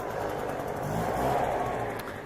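A leaf blower roars continuously at close range while blowing mulch, a steady, broadband whoosh holding level without pauses.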